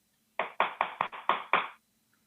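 A person imitates tree knocks, wood striking wood, with about six rapid, sharp knocks in a quick burst, close and loud, then silence.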